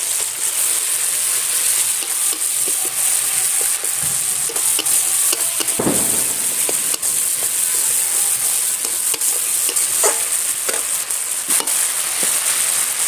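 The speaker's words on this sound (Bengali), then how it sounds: "এবারে আদা বাটা দিয়ে দিচ্ছি, আদার উপরে একটু হলুদ গুঁড়ো দিচ্ছি" Ginger paste sprinkled with turmeric fries in a pan, giving a steady bright sizzle with scattered spatula scrapes and knocks, close and continuous, with no talking.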